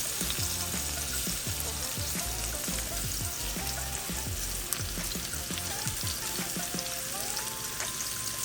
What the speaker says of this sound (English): Add your salmon. And we're gonna cook our salmon for about 5 minutes.